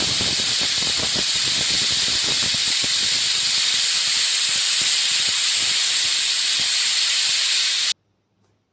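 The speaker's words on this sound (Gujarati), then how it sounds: "કુકરમાંથી બધી જ હવા આવી રીતે કાઢી લેવાની અને ત્યારબાદ જ કુકરને આપણે ખોલવાનું છે" A pressure cooker of boiled chickpeas on a gas stove releases its steam in a loud, sustained hiss for about eight seconds, then cuts off abruptly into near silence.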